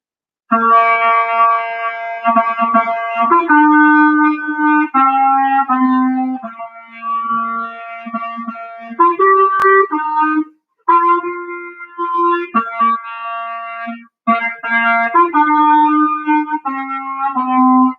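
A band teacher plays a film theme on a single melodic instrument, a clear, sustained tune with steady phrasing and a few short pauses, close and fairly loud, with no talking.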